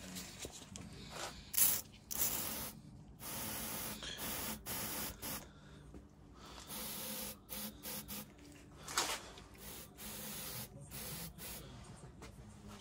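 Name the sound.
brake cleaner being sprayed on cylinder head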